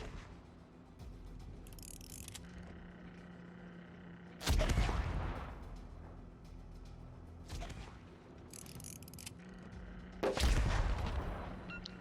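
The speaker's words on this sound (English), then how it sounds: "I do like the gun firing sounds on the ship" Naval guns on a warship firing in World of Warships, two heavy booming salvos a few seconds apart with a rumbling tail, and lighter mechanical clunks and softer shots in between.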